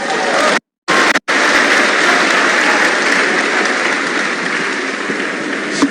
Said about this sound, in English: Those people, clap for them, please. Clap for protocol.